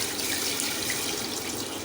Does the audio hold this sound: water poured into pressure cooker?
yes